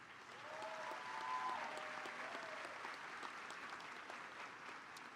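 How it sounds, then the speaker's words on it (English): Applause from a large audience at a high school graduation ceremony, a steady, distant wash of clapping sustained throughout, faint and even. "Let's give all of these students another round of applause."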